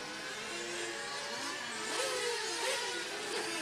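A 1/8 scale GT nitro RC race car engine buzzes and revs at a pit stop during a main race, a steady high whine with small rises in pitch, close and continuous.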